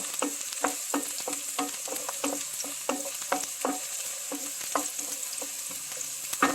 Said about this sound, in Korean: 이렇게 마늘이 투명해지도록 볶아요